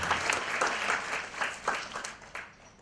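Audience applause at a sermon or talk, a steady patter of clapping from a crowd that fades out toward the end.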